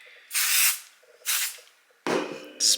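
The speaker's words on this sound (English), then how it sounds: "Spray." Several bursts of aerosol spray hiss onto cut vinyl pieces while a handbag is being prepped, three longer puffs and a short final one with pauses between, close and fairly loud.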